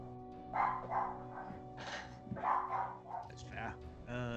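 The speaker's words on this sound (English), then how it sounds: "My wife has got guests over, and the dogs are going berserk." Several dogs bark at guests in a home, loud and near, in repeated bursts of excited barking with some yips. Voices carry on beneath the noise.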